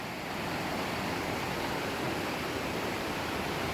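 The Luaha Ndroi waterfall and river in North Nias, Kecamatan Alasa, produce a constant broadband roar of falling and rushing water, steady and enveloping throughout with no voices.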